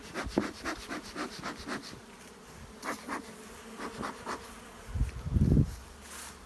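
Honeybees at a hive being calmed with smoke, a steady close buzzing drone with pulsing wingbeat texture throughout, swelling into a louder rough burst near the end.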